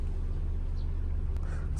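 A car that had stood unused for four months drives along, its engine a steady low rumble close by, with road noise continuing throughout and no one speaking.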